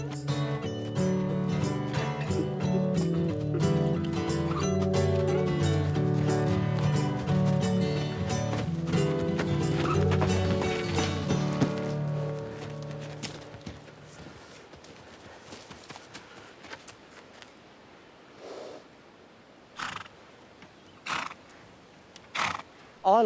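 A wild horse runs across open country in Australia's Snowy Mountains, hooves clip-clopping steadily and loudly at first, then thinning into scattered isolated hoof strikes, with a neigh near the start.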